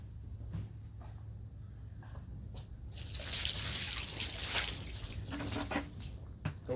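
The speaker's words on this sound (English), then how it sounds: "let me get a little bit of water on the back side of this" Water is poured over a freshly sawn maple slab cut on a Timberking sawmill, a soft splashing trickle for a few seconds after some faint knocks, with no talk.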